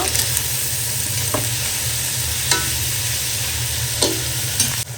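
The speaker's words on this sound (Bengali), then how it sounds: "সবজিগুলা সব দিয়ে দিচ্ছি, দিয়ে দিব লবণ পরিমাণ মতো এবং ভালো মতো নেড়ে চেড়ে দিব।" Vegetables salted in a frying pan and stirred, with a steady low sizzle under repeated scraping and clinking strokes of a spoon, close and fairly loud with no voices.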